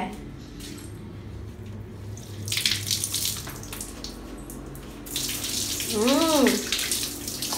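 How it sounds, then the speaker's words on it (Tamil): Tap water runs steadily into a sink while hands are washed, a continuous hiss that swells louder in the second half. "கை எப்படி கழுவுவீங்க"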